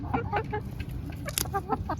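Backyard chickens cluck and squawk close by in a busy, overlapping chatter over low outdoor background noise while being fed pea pods.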